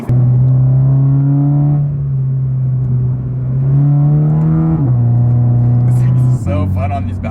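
A modified car driving on back roads, heard loudly from inside: a sustained engine drone whose pitch rises and then drops at several gear changes, holding steady between shifts.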